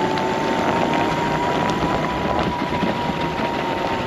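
Small Yamaha electric scooter ridden over cobblestones, giving a steady, continuous rumble of wheels and a faint motor tone at an even loudness with no talking.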